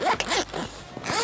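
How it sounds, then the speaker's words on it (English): A zipper is drawn open around a Tentbox rooftop tent in a few quick, smooth, close-up zipping strokes, with no voices. "Zip's running really smooth, no mould or marks on it from what I can see at the moment."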